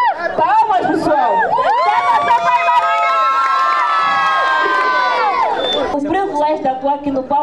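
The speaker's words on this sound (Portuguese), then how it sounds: "Palmas, pessoal." A concert audience cheering and shouting, loud and continuous, with many high voices whooping in a sustained swell that fades near the end into scattered crowd noise.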